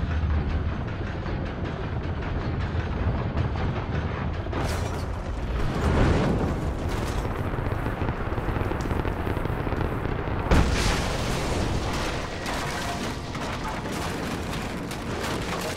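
A gate blown apart by explosives in Rise of the Tomb Raider, near the Outskirts of Kitezh, with a steady roar of rumbling blasts and a sharp crack standing out partway through, and no voices.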